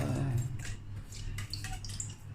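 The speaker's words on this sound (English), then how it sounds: "Here I'm mixing the salt into the water." Red sea salt being stirred into water: soft sloshing and dripping with brief splashy bursts, heard close over a steady low hum.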